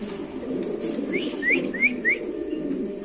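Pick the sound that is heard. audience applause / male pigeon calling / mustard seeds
male pigeon calling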